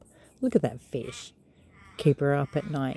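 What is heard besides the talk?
crows cawing in the background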